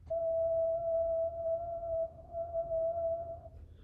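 A person whistles one clear, steady note that holds for a few seconds, with a brief dip before resuming, then stops. It sounds close and fairly quiet over a faint low background hum.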